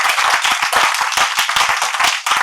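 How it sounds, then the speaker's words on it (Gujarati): An audience at a saint literature festival claps for two speakers: a brisk, dense burst of many hands clapping together, loud and near, with no talking over it. "બંને વક્તાઓનું ખૂબ તાળીથી અભિવાદન કરીશું."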